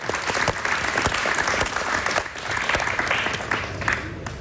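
Steady applause from a campus audience of university students at a Javanese talk event, dense and even for several seconds with no voices rising above it.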